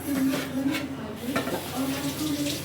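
A pot of Nellore-style fish pulusu at a rolling boil gives off a continuous close, watery bubbling and gurgling with a few louder splashy surges.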